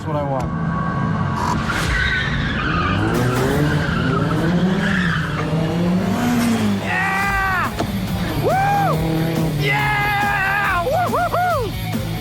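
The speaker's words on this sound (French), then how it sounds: "Maintenant, c'est mon tour en driftant. Et voilà, c'est parti, drift 180." A car drifts through a 180-degree turn, its tires squealing and skidding loudly for several seconds with rising and falling screeches, while excited voices call out over the noise.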